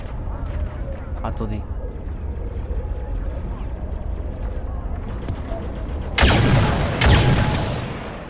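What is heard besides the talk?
big cannons firing in video game Star Wars Battlefront II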